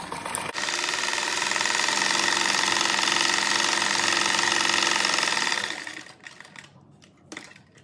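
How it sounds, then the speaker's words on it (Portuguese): A sewing machine runs a continuous reinforcing seam on a simple cat-shaped door stopper, whirring loudly and steadily for about five seconds before stopping, followed by a few quieter clicks and handling sounds. "Acho que eu vou passar duas costuras para ficar bem reforçado."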